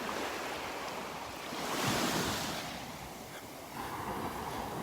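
Ocean waves wash onto the beach at Delnor-Wiggins in a steady, broad surf roar that swells in the middle, with some wind noise and no talking.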